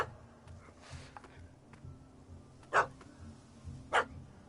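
A puppy in The Witcher 3 barks twice, short and somewhat distant, over low ambient game rumble and faint background sounds.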